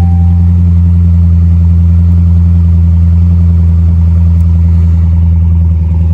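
A car engine idles at a Copart salvage yard, a loud, close, steady low rumble that holds unchanged throughout with no voices over it.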